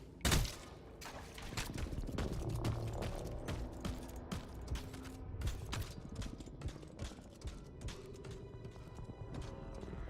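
Rapid gunfire bursts from the video game Anthem, sharp repeated shots layered over a dense, busy game soundscape with continuous mechanical and effects noise.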